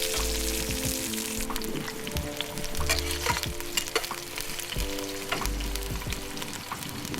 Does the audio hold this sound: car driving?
no